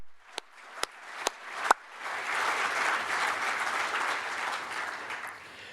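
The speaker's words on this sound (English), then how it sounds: "So please join me in a round of applause for all those folks." A large conference audience breaks into sustained applause after a few isolated opening claps, a dense, steady wash of clapping that fills the room for several seconds with no talk over it.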